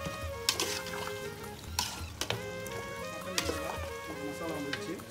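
Mutton biryani masala with yogurt being stirred in a pan, steady sizzling with scraping strokes of a spoon against the pan at irregular intervals, close and moderately loud, no talking.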